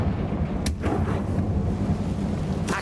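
A fiery Confringo blasting spell explodes in Hogwarts Legacy, a loud booming rumble with sharp cracks near the start and end over a dense, continuous low roar, with no talking.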